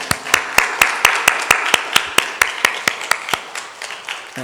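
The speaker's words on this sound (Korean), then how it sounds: "하나님께 영광 박수 올려드리겠습니다." A church congregation claps in unison during a worship service, sharp, evenly spaced hand claps in a steady rhythm, roughly four per second, holding a consistent loudness before easing slightly at the end.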